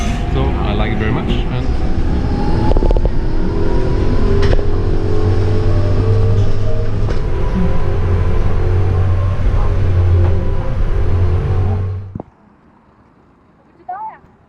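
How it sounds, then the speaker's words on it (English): Ride on a pure electric city bus in Hangzhou, a loud, steady road rumble and whir with rattles and a low hum throughout, then the noise cuts off abruptly, leaving near silence with a brief sound. "We are now in a bus in Hangzhou, and like a lot of new buses here, it's pure electric."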